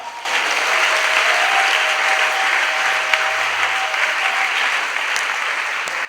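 A church congregation applauds together, a dense, steady wall of clapping that starts abruptly and holds at full strength for several seconds, close and loud.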